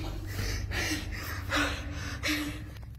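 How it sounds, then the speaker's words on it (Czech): Heavy, frightened breaths drawn in gasps during a live broadcast, about four loud inhales in a slow uneven rhythm, close up over a low rumbling background. "což jde slyšet i z jeho těžkého dýchání"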